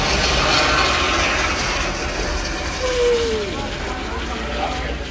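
A fixed-wing airplane passes overhead near a residential street, a broad steady engine roar that swells early and slowly fades.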